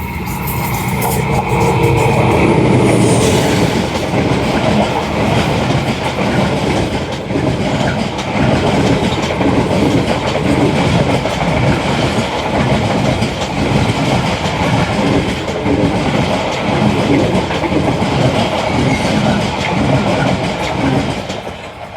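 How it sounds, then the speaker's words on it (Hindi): The Shah Hussain Express passes on the rails with a loud, continuous roar and a rhythmic clickety-clack of wheels over joints, close by and sustained throughout, with no voices. "2:05 पे 43 अब यानी कि शाह हुसैन एक्सप्रेस मियाँ शमीर क्रॉस 28 डाउन।"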